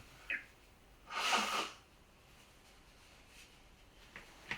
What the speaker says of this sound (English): So I just need to blow my nose again.